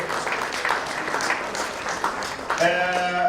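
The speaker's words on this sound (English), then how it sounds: "A round of applause for Lucas Magodo." Audience applause at a Zimbabwe Achievers Awards ceremony in Australia, a steady dense wash of clapping filling the room, with music starting up near the end.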